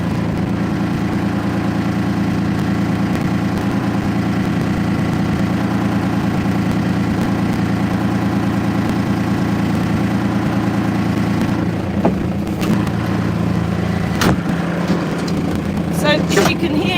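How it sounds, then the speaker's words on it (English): A Polaris utility vehicle idles with a steady, loud, low engine drone that holds unchanged for the whole stretch, and a few brief clatters come near the end. "So you can hear me over the sound of Arthur, or Polaris."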